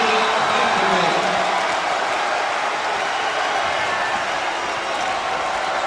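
Basketball arena crowd at an NIT game roaring steadily for a player, a dense, loud wash of cheering and applause that holds throughout with no pause.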